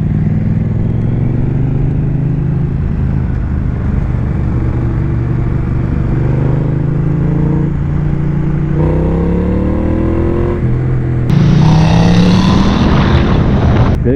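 A 2019 Triumph Street Twin motorcycle engine roars loudly and continuously, its pitch rising and dropping through gear changes, with wind rush, then revving harder near the end.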